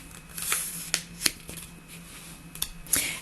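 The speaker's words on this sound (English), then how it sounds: "So we are folding here." Paper being folded for a five-point origami star: soft close rustles and several crisp creasing snaps, quiet and close with no talk.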